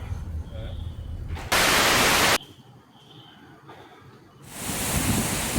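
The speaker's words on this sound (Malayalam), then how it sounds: "ഇതാണ് ചാർപ്പ വെള്ളച്ചാട്ടം. അവിടെ നിന്ന് ഇങ്ങോട്ട് വെള്ളമൊക്കെ തെറിക്കുന്നുണ്ട്." A rushing roar from Charpa Falls in Kerala's Athirappilly–Vazhachal area, surging loud in two strong bursts over a lower, steady hiss of moving water, with spray flying toward the listener.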